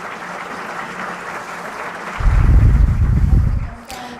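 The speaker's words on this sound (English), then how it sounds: "A round of applause." An audience in a university auditorium at a conference gives a short round of applause, a muffled, boomy swell of clapping that rises midway, holds for a second or so, then drops away over a low room murmur.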